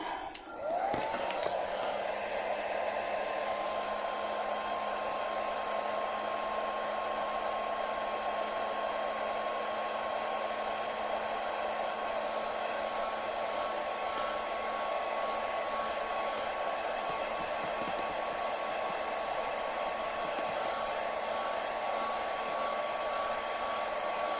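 A hair dryer blows steadily on a craft project, a loud continuous whirring drone that starts abruptly and runs unbroken, close and alone without talk.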